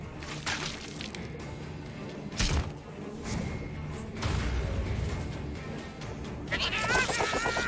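A cat meows in the South Park video game, a few short, distinct cries standing out over quiet game ambience and thuds, fairly close.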